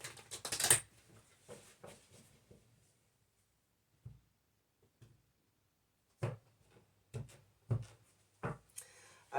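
Tarot cards shuffled by hand during a morning reading, heard as a few soft, close riffling and tapping bursts separated by quiet pauses, with no talking.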